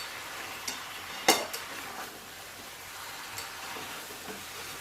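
Mutton stirred and fried in a pan, a close sizzle under the scrape of a spoon, with one sharp clatter early on and softer stirring after, no voices.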